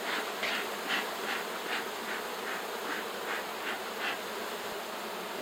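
Honey bees in an agitated, busy hive, with eggs and larvae in the brood nest, give off a steady, dense buzz close by that swells and dips in soft pulses throughout, with no voices.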